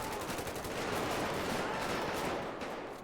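Sustained video-game gunfire from an LSPDFR police shootout during a night warrant, dense overlapping shots rattling continuously for about three seconds, loud and close, easing slightly at the end.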